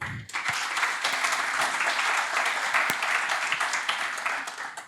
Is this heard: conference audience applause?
yes